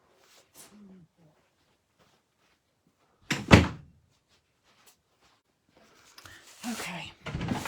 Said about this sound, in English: My door's open.